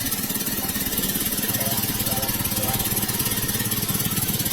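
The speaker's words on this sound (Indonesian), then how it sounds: "Di sana sudah terlihat mesinnya sedang hidup dan terus mendorong air masuk ke dalam, memberikan tekanan." Engine pumping water under pressure during a coconut harvest, running steadily with a loud, continuous rhythmic chug throughout.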